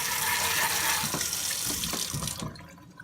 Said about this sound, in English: To make sure the Boltaron is completely cold, we're gonna flush it with water a little bit.